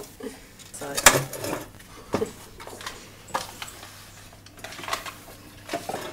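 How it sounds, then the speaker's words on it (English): Crushed biscuit base is pressed into the bottom of a baking tin for a banoffee pie, giving a series of clunks, taps and metallic scrapes spaced a second or so apart, fairly close. "So we're just going to push this down into the bottom of the tin for the base"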